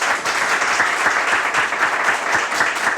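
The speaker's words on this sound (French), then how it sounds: "On s'applaudit très très fort." Loud, steady applause from a studio audience at a French-language TV driving-school comedy show, dense clapping sustained without a break through the whole stretch.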